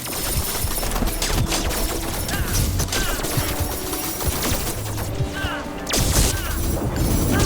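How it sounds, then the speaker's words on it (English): Gatling cannon fire in a drone-formation survivors-like video game: a dense, unbroken rattle of rapid shots mixed with crashing impacts and explosions, loud and continuous throughout. "Gatling cannon, go."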